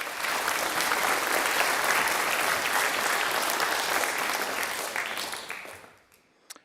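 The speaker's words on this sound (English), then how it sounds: "we should give them a round of applause too." An audience in a parliament gallery at a school quiz final bursts into sustained clapping, dense and loud for about five seconds before trailing off to a few last claps.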